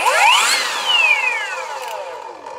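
A Parkside Performance 40 V cordless circular saw, model PPHKSA 40-Li A1, spins up with no load, a high whining motor tone rising and then sweeping down as it slows, loud and close with no talk.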